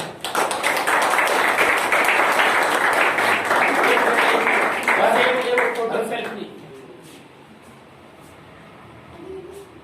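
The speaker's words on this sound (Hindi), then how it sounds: "आप सबों के द्वारा जोरदार तालियां।" Loud, dense applause from an audience honouring a top-ranked school student at a felicitation ceremony, sustained for about six seconds before fading to a quieter murmur with scattered voices.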